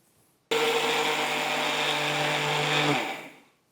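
A mixer grinder whirs sugar for shrikhand into a coarse powder: a sudden loud motor start, a steady high-pitched hum for about two and a half seconds, then a falling whine as it spins down to silence.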